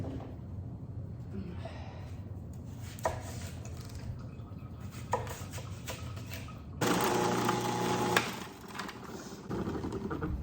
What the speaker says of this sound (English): I'm going to toss it through the food processor